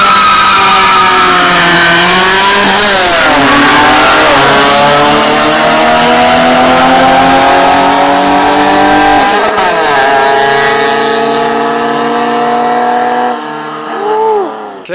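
A Honda hatchback pulls hard in a street race, its engine note loud and close, rising through the revs with gear shifts breaking each climb, then easing off at the end.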